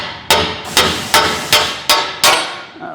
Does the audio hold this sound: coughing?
no